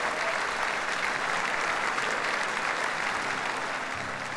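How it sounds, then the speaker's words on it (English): A dense, steady roar of applause fills a hall from the audience at a 50-year celebration concert in Dublin, a thick wash of many hands clapping without pause. "would you please give a big round of applause to Chris Kavanagh"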